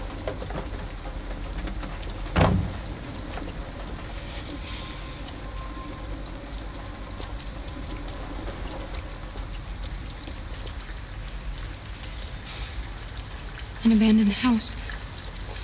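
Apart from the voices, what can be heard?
rain falling outside, from the video game Detroit: Become Human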